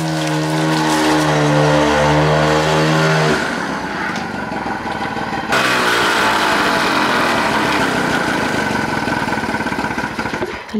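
A Toyota Corolla engine, freshly worked on with new covers and running with extra oil, drones loudly at rising revs, then drops and climbs again in sustained, close, steady roars with no talking.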